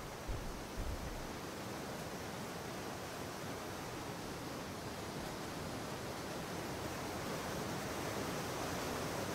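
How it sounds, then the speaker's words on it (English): Water pours down from a cliff and tree-root ledge into a pond in the game Atlas, a steady, even rush of splashing that fills the scene without a break. "That's the water coming down from up top."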